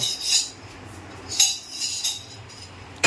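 A kitchen knife slices onions, giving several sharp, crisp strokes spaced irregularly apart against a quiet background.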